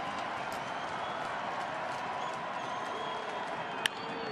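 Baseball stadium crowd at a Rangers–Twins game in Minnesota, a steady broad roar of cheering and applause from fans on their feet, continuous and fairly distant, with one brief sharp clap or crack near the end.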